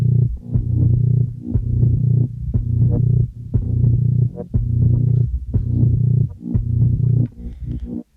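A heartbeat run through Lunacy Audio's Beam plugin on the Coming Down the Pipe preset pulses as deep, heavily bassy, distorted throbs in a steady repeating rhythm, loud and alone.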